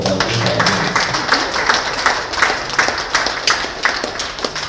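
An audience claps together at a youth sisters' welfare committee inauguration, producing a steady, dense patter of hand claps that fills the whole stretch at moderate loudness, with no voice over it.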